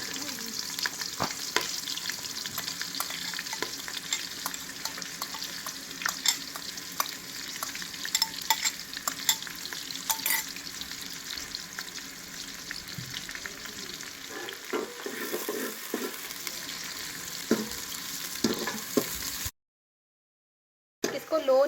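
Sliced onions fry in ghee for layered biryani with a continuous close sizzle and frequent stirring clatter, broken by a brief gap of silence near the end.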